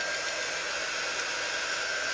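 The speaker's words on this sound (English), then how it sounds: "So I am going to take my dryer." A hair dryer blows steadily on ink drying on a decorative pillow cover, a close, even whooshing roar that holds unchanged throughout, with no voices over it.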